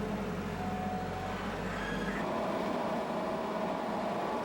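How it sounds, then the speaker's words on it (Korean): Steady mechanical grinding and whirring as a machine at a worm-composting plant chops food waste and mixes it with sawdust, a constant dense noise with a low rumble that drops away partway through. "먼저 음식물 쓰레기를 잘게 썰어 톱밥과 함께 섞는다"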